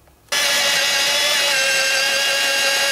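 A power drill bores holes into a log for curved log railings, starting abruptly and then running with a loud, steady high whine close by.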